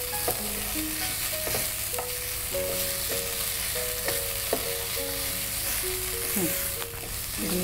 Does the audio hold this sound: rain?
no